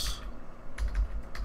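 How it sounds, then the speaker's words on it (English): Typing a web search on a computer keyboard: short clusters of soft key clicks, one near the start and two bursts later, close and fairly quiet, with no talking. "I'm just going to type in how to get"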